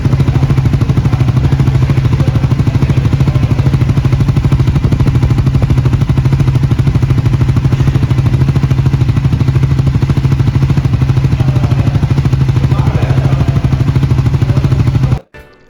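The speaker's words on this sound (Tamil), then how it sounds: "அதோடைய எக்ஸாஸ்ட் சவுண்ட் எப்படி இருக்குது அப்படிங்கிறத இப்போ நீங்கள் கேட்டு பாருங்கள்." A Triumph Scrambler 400X motorcycle with a single-piece twin-outlet exhaust runs steadily at close range. Its loud, continuous throbbing rumble holds for about fifteen seconds and then cuts off abruptly.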